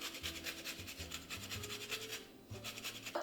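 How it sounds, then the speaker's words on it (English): A lemon rubbed against a zester in quick rhythmic scraping strokes, close and fairly quiet, with a short pause before the strokes resume; no talking. "At this point, I will zest my lemon."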